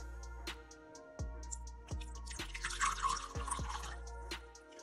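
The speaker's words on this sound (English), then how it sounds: "I'm gonna pour it till end of the glass" Water poured steadily into a glass on a breadboard water level indicator setup, filling toward the rim, with a bright splashing pour and several sharp drip-like taps over a low steady hum.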